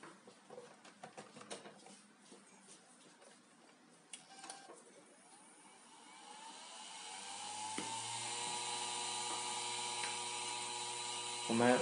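A homemade bench grinder built from an old hard disk starts with faint clicks and handling, then spins up into a rising, steady whine that holds loud and close to the end.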